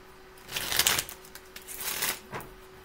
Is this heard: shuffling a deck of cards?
yes